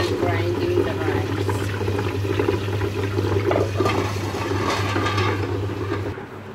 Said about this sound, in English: And now I am grinding the rice.